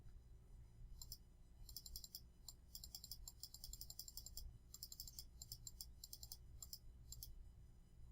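Bursts of quick, crisp keystrokes on a computer keyboard, typed in short runs with brief pauses, close and clear over a low steady room hum, with no talking.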